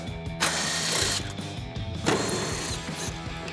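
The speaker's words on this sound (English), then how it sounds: "So we'll grab our 10mm socket and pop those out." 10mm socket on a ratchet backing out headlight screws on a RAM 2500, quick repeated ratcheting clicks close up, in two short bursts over a low background hum.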